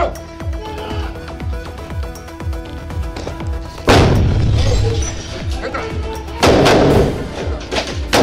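A grenade goes off in a 2016 action film. Two loud, booming blasts with a lingering rumble follow a run of sharp, rhythmic thuds, with voices heard in the scene.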